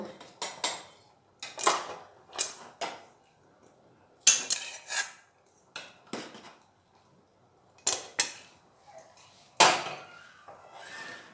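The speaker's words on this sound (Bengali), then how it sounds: "দিয়ে খুব ভালোভাবে নাড়াচাড়া করে মিশিয়ে নেব।" Metal spoon striking and scraping a cooking pot while stirring spices, nuts and grated coconut into vegetarian khichuri, sharp clanks in irregular bursts with quiet gaps between, close and clear.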